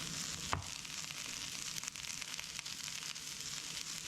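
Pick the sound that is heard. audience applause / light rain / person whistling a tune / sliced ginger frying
sliced ginger frying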